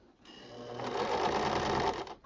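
A sewing machine stitches quilt binding on a hexagon quilt in one short burst, a close whirring run that starts, holds steady for about two seconds and stops.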